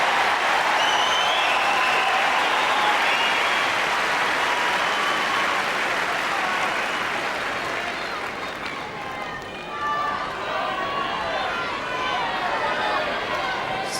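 Crowd at a Wimbledon tennis match between Steffi Graf and Venus Williams, a dense, loud sustained wash of applause and cheering that roars throughout and eases slightly toward the end.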